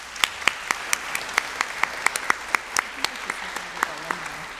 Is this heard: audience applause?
yes